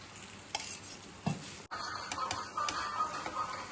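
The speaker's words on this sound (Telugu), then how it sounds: "ముందు పెనం పెట్టుకొని 2 టేబుల్ స్పూన్ ఆయిల్ వేసి ఆలు పరోటా కాల్చుకోవాలి." An aloo paratha fries in about two tablespoons of oil on a flat griddle pan, giving a steady close sizzle with occasional scraping and clinks from the pan and utensil.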